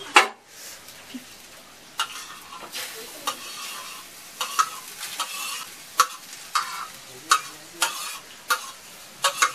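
Hand sanitizer gel solution sizzles in a hot wok while a utensil scrapes and knocks against the metal in irregular strokes, close up.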